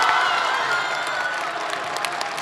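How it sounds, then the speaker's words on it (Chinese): A comedy crosstalk audience at a televised New Year gala applauds and cheers, a dense steady wash of clapping that carries on without pause. "感谢大家的掌声鹘励啊"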